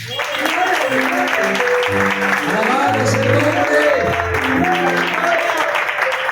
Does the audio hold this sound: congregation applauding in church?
yes